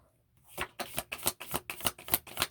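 A deck of cards is shuffled close up, a rapid series of crisp riffling bursts in a steady rhythm after a brief quiet start.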